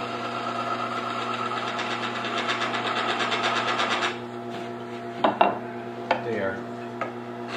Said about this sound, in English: I'm going to make this little round bead right here with a gouge just by rolling it over